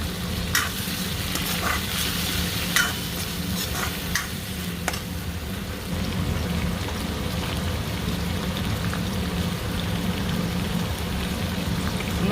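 Tomatoes sizzle in a pan with fried onion and ginger-garlic masala, a steady close crackle and hiss broken by occasional scrapes and clacks of a spoon stirring, with no talking.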